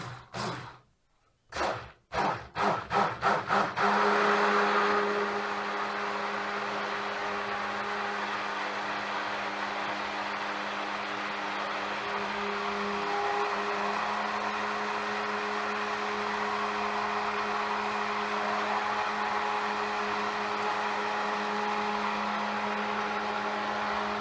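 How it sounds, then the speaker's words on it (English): A stick blender mixes soap batter made from leftover oils. It opens with a few short pulsing bursts, then settles into a steady, close motor hum that runs continuously to the end. "I'm gonna stick blend it just a tiny bit."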